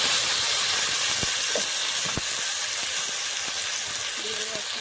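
A spice paste of green chili, dried chili, ginger, cumin and garlic, ground together, is added to a hot pan of fried onion and garlic for a meat curry, hissing in a loud, steady, close sizzle with a faint voice underneath.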